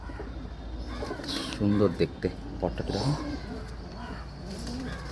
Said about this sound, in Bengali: এই আরেকটা পায়রা দেখুন, এও সেম ওরকমই দেখতে,